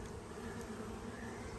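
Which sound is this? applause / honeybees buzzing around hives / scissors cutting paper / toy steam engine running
honeybees buzzing around hives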